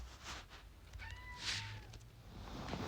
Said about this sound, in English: My cat is now yelling at me.